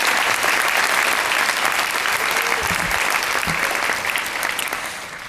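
A large audience at an annual meeting claps loudly for over 200 day-school students, a dense sustained round of applause that holds steady and then begins to thin and fade near the end.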